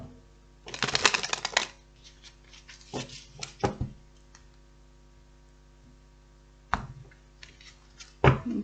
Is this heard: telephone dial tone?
no